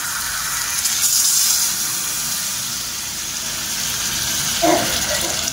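Water is poured into a cooking pot while chicken dum biryani is made with parboiled rice, a steady rushing wash with a brief splashy gush near the end. No one talks.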